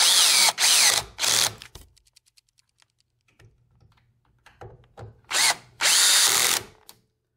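A power drill tightens the screws of a French door ball clasp, running in four loud bursts, two near the start and two near the end, with quieter handling clicks and rustling in between.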